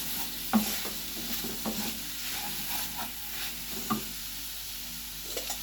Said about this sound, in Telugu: మసాలా పట్టేలాగా అంతా బాగా కలుపుకుందామండి